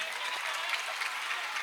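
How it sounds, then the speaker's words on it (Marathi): Parents applaud at a school cultural performance, a dense, steady burst of clapping from a full hall that fills the brief moment without voices. "पालकांनी टाळ्यांचा प्रतिसाद द्यायचा आहे."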